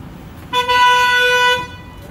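A single car horn sounds a steady honk lasting about a second amid the low rumble of a street traffic jam, with other vehicles idling nearby and voices in the background.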